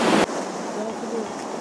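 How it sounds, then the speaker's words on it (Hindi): Water rushing through a single open gate at Tenughat Dam in Bokaro, Jharkhand, a steady broadband roar that is loud and close and runs without a break through the clip after a short, louder burst at the start. "तो आप देख सकते हैं कितना तेज़ी से पानी निकल रहा है देख सकते हैं।"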